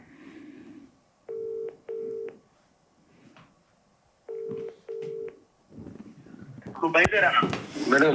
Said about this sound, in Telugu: ఒక్కసారి వాసుదేవరెడ్డి గారికి ఫోన్ చేద్దాం.